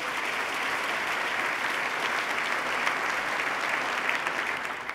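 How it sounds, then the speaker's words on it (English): A large audience at a State of the State address applauds steadily throughout, loud and sustained, with no voices over it. "Let's give Abby a round of applause."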